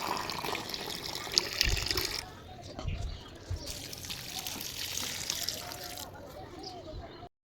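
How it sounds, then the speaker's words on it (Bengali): Water splashes and trickles as a chilli plant in a pot is watered, a soft continuous pour with a couple of brief breaks and small knocks, fairly close and not loud. "এটাতেও জল দিয়ে দেবো"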